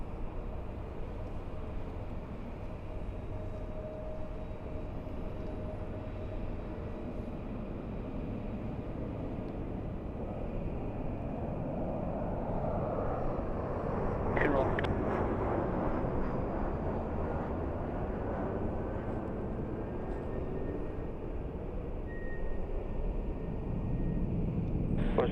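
A jet airliner departs from runway 24 left at Los Angeles International Airport, heard from a distance as a steady, broad engine roar that builds gradually and stays sustained throughout.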